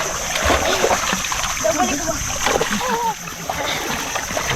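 Sea water splashing and sloshing close by at the shore, continuous and fairly loud, with people talking over it.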